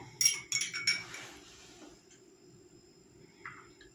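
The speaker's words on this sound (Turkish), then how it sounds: "Dökülmesin diye kaşıkla koyacağız." A spoon clinks three times in quick succession against a container while homemade ice cream mix is scooped into molds, followed by faint scraping and one soft clink, close and quiet.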